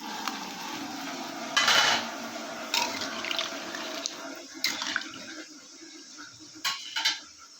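Water poured from a vessel into a pan of simmering vegetable curry with eggplant, a splashing pour in several bursts with quieter gurgling between, close and fairly soft, no talking.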